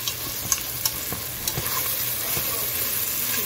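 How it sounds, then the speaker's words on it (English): Stew beef frying in a pan for birria tacos, a steady close sizzle with a few sharp crackles and pops early on, settling into a continuous hiss with no talking. "Get your stew beef fried first, okay?"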